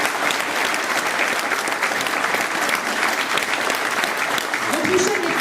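Sustained applause from a large political campaign launch audience, steady and dense throughout, with a faint voice briefly audible near the end.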